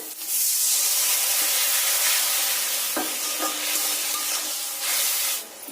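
A spiced mixture of boiled potatoes with Kashmiri chili powder and salt is stir-fried in a pan, producing a loud, close, steady sizzling hiss broken by a few spatula scrapes before it cuts off sharply.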